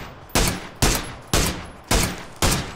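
Incoming gunfire aimed at the player in the battle game PUBG: five loud, sharp shots spaced evenly about half a second apart, each cracking hard and trailing off briefly, with no voices over them.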